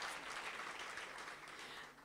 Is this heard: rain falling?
no